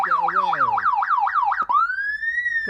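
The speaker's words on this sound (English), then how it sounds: "If you press the top button on the siren, you get a wah." A loud electronic siren on a BMW F800 GT motorcycle yelps in fast rising-and-falling cycles, then switches to a long, steady, slowly rising wail.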